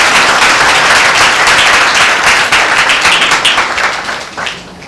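Congregation applause at a Tuesday healing meeting in a church, loud sustained clapping from many people, steady throughout and tapering slightly at the close.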